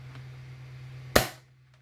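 A Nerf Hammershot blaster fires a single foam dart: one sharp, snappy pop close by over a steady low electrical hum, with a brief decay afterward.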